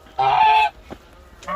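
Geese honk loudly and close by in a yard beside a field, one long nasal call followed by a softer pause and another honk starting.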